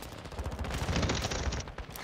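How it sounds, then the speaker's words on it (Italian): Dense, rapid gunfire crackles from several directions in a shooter video game, bursts overlapping in a fast, close barrage with no speech. "mi sparano da tutti i lati"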